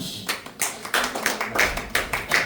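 A gathering applauds in a modest, uneven patter of hands, with clusters of sharper claps recurring roughly every third of a second at moderate volume.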